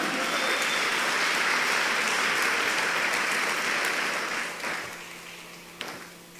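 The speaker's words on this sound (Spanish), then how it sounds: "Dele esa palma de aplauso al Señor." A crowd claps in sustained, dense applause at a church convention service, holding steady for several seconds, then gradually thinning out and fading.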